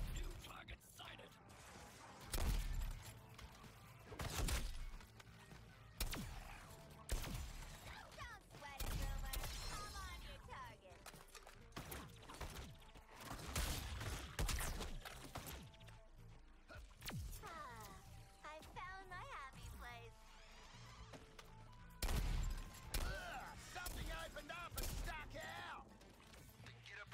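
Heavy gunfire from the Suicide Squad video game, bursts of automatic fire and sharp shots repeating throughout against a tank-like enemy, loud and dense with explosions mixed in and voices underneath.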